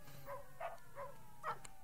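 A dog barks four times in a quick, evenly spaced run in The Godfather, faint and somewhat distant over a low background hum.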